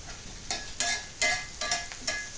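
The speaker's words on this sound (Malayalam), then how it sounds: "ചെറിയ ഉള്ളി തന്നെ വെച്ചിരിക്കണേ നന്നായിട്ടൊന്ന് ഇളക്കി കൊടുക്കണം" Small shallots frying in a pan for a roasted-coconut mushroom curry, a low steady sizzle punctuated by five or six bright scraping strokes as a spoon stirs them, close and clear.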